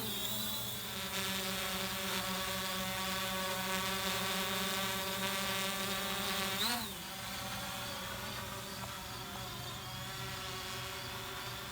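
A Xiaomi A3 drone lifting off, its rotors giving a steady high buzzing whine with a brief pitch dip as it climbs, close and continuous without speech.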